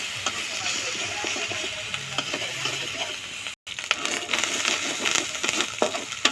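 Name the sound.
spice paste frying in oil for tengra fish curry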